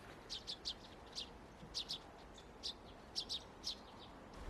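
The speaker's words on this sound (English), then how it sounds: "I can hear a tree sparrow chirping as well." Short, high tree sparrow chirps in small clusters, repeated several times over a quiet outdoor nature reserve background with no one talking.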